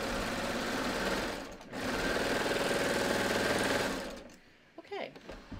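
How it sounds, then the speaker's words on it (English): A sewing machine re-sews a tee shirt seam in a close, continuous whir broken by one brief stop, then halts as a voice starts talking. "I'm slightly off the fabric, so I'm just going to sew it again"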